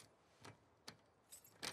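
Keys jangle in The Last of Us Part II, several quick metallic clinks and rattles in separate bursts, close and fairly quiet, with no speech.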